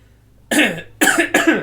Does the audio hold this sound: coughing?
yes